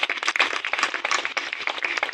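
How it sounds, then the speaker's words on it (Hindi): At a community gathering, an audience claps for a guru, a brisk, fairly quiet burst of many hands that patters on steadily without pause. "जोरदार तालियां बजाएं"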